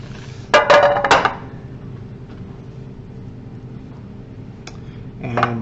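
Dough rolls for hot cross buns are set into a baking dish with a quick cluster of close clinks, then a quiet pause and one more faint tap before another clink near the end.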